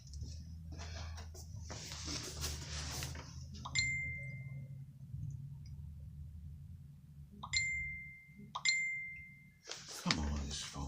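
Phone notification dings from a busy group chat ring out several times, short bright tones separated by pauses, close and clear, with a man muttering and some handling noise between them.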